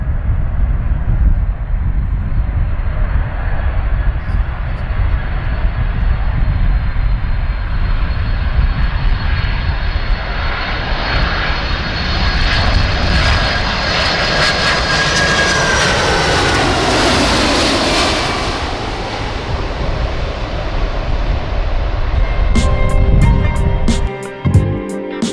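A Boeing 747 jet airliner arriving at an airport roars loudly and steadily, its engine noise swelling and sweeping as the aircraft passes close by, with no talk over it.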